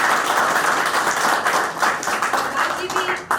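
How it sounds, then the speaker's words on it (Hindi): Audience at a yoga center event in Sultanpur, New Delhi breaks into loud, sustained applause and clapping, a dense wash of hands continuing throughout with voices mixed in. "उनके लिए भी आप जोरदार ताली"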